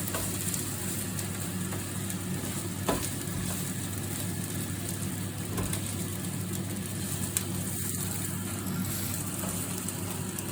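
Rice and sofrito are stirred together in a paella pan for seafood paella, a steady close sizzle of frying with occasional scraping clicks of the spoon, with no talk.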